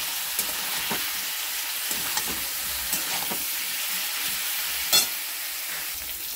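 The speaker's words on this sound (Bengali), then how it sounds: "একটু লাল লাল করে ভেজে দিই।" Potato and cauliflower seasoned with salt and turmeric fry in oil in a wok, giving a steady close sizzle with a few soft stirring knocks and one sharper clink near the end, with no talking.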